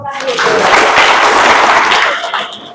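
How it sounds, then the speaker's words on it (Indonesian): An audience at an Indonesian school admissions briefing in Jember bursts into loud applause, a dense roar of clapping that swells and then tapers off. "Ya, tepuk tangan dulu."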